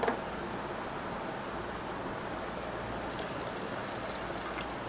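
Water pours into a soup pot of cabbage and green chillies for a homemade lemon coriander soup, a steady close rushing stream that runs alone and unbroken.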